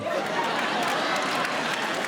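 Audience applause at a stand-up comedy show, steady and dense, a crowd of hands clapping with a faint murmur of voices, sustained throughout.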